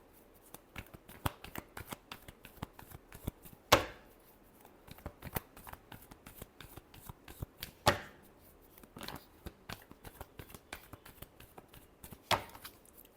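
Tarot cards being shuffled by hand during a Leo reading: a steady run of soft riffling taps with a few sharper slaps, fairly close and quiet, with no talking.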